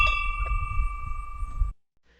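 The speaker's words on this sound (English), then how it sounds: "ring the notification bell" A single bright chime rings and sustains with a clear tone over a low rumbling thud, then cuts off abruptly into silence.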